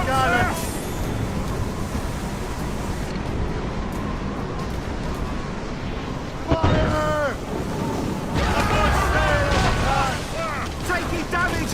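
Naval cannon broadsides in Assassin's Creed Rogue boom and crash amid rolling waves and creaking ship noise, loud and repeated, under shouted commands from the crew.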